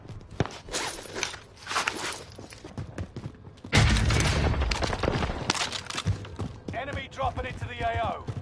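Shotgun blasts from the video game Warzone, in a loud burst of heavy gunfire that starts partway through and lasts to the end, mixed with in-game clatter and players talking over it.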